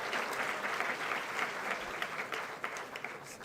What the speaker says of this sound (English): Please give a big round of applause for all the PhD degree holders.